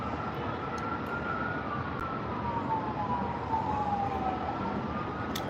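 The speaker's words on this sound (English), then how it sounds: "The never-ending sound of sirens on the strip." A police siren wails and slowly falls in pitch over constant loud street roar on the Las Vegas Strip, fairly distant, with no talking.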